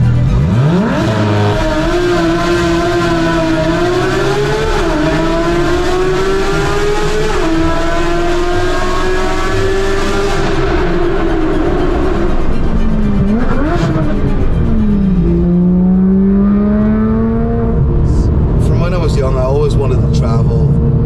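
A Porsche GT3 engine revs hard and echoes in a tunnel, pitch climbing through gears, dropping, then surging again, loud and close throughout.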